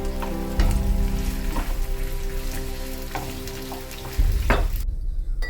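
Onion cubes with red and yellow bell peppers and capsicum sauté in a pan for a chicken dish, giving a steady, close sizzle with occasional stirring scrapes and a brief quieter gap near the end.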